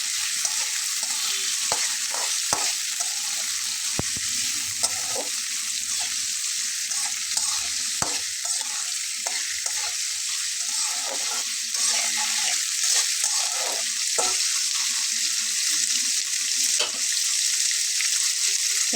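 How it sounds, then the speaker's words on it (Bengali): Potatoes fry in hot oil with nigella seeds while a spatula stirs them, producing a loud, steady sizzle broken by repeated sharp scraping clicks against the pan. "আলুটা দিয়ে আমি একটু নেড়ে দেবো।"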